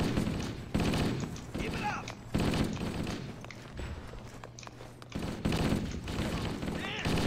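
Gunfire erupts in bursts during a Halo-style military shooter video game battle on Legendary difficulty, with loud volleys broken by quieter gaps and voices calling out between the shots.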